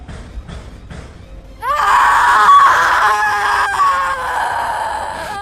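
A ghostly scream serves as a sound effect in a Hindi horror story. Faint rhythmic tones lead into a sudden, loud, sustained shriek that wavers and holds steady for several seconds without any speech.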